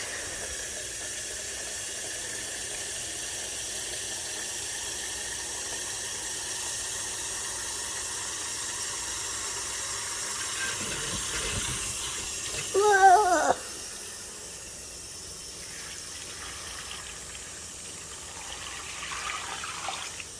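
Hot water runs from a kitchen sink tap into a pitcher as a steady, soft hiss. It continues for a long stretch, with a brief louder splash partway through.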